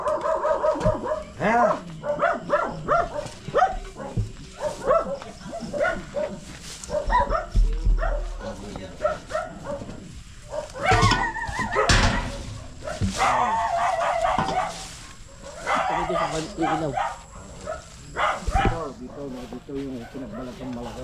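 A dog barks in short bursts and yips at intervals, fairly close, mixed in with people talking and moving around outdoors near a chicken coop during a search for cobras.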